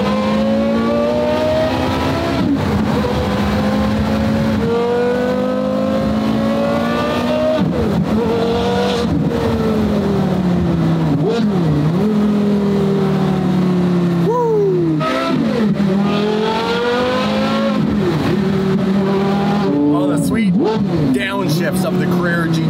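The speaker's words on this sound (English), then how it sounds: "the sweet sound of a Porsche V10." A Porsche Carrera GT's V10 engine drives on California roads, loud and close throughout, rising and falling in pitch as it revs through repeated gear changes, with occasional sharp drops between shifts.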